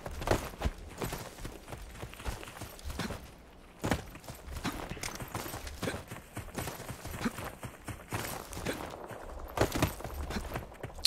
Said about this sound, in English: they're shooting right now